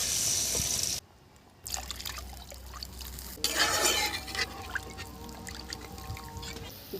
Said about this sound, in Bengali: মশলা ভাজা হয়ে গেছে, এখন জল দিয়ে দিচ্ছি।